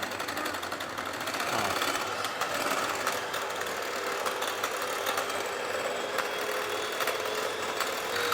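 An electric hand mixer whips egg whites for a no-bake strawberry mousse, giving a steady, close motor whir that runs without a break for the whole stretch and climbs slightly in speed, with no talking over it.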